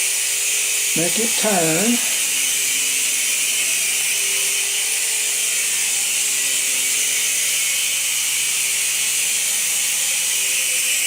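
A Sky Rover KnightForce radio control toy helicopter's small electric motor whirs steadily for several seconds, a thin constant buzz, while a voice briefly speaks near the start.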